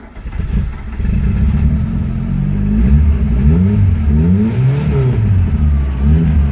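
A 1600 Ford Taunus TC3 fitted with a swapped 2-liter engine and 5-speed cranks, catches and runs, then revs up and down repeatedly, loud and close with no talking.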